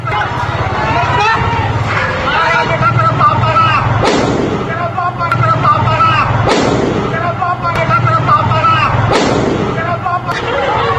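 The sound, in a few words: gunfire echoing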